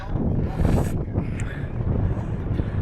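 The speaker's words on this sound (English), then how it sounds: "A little bit windy." Steady wind buffeting the microphone on a hilltop along the Wicklow Way, a continuous low rumbling roar with gusty swells throughout.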